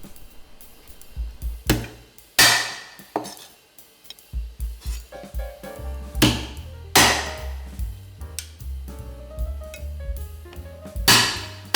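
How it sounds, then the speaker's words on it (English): Shelled freshwater prawn meat is pounded in a kitchen in a run of irregular knocks and clacks, some sharp and loud, mixed with clinks from utensils against a surface, close by and without speech. "you then have to start hammering the meats immediately, but don't hit them too hard"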